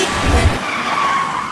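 A car driven recklessly skids. A short, loud thump is followed by a sustained tire squeal that holds steady for about a second, with no talking.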